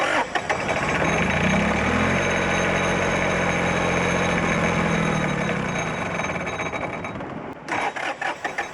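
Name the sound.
1953 Kenworth bus engine idling after fuel system repair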